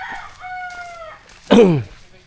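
A rooster crows once, loud and close, a rising then falling call after a few seconds of quieter background sound.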